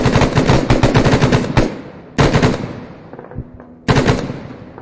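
Machine gun fire in a video game: a long rapid burst of loud automatic shots, followed by two shorter bursts that each ring out and decay, close and with no talk.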